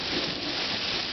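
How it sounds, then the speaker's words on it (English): Rain falling outdoors onto a lawn, heard as a steady, dense hiss of drops that stays even and close for a brief moment, with no voices. "It just started raining only a couple minutes ago."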